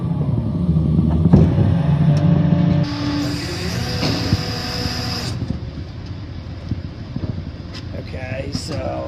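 Bobcat skid steer driving and working during a machine recovery on ground with broken concrete, a steady low engine rumble with rising hydraulic whine midway, close by with someone talking over it.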